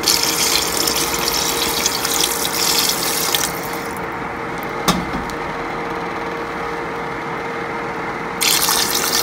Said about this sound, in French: une fois que la viande a bien saisi, je vais ajouter de l'eau